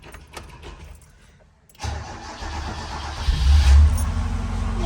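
A 1983 Toyota Corolla engine cranks and fires after a quiet moment, then settles into a loud, close idle that rises slightly as it revs.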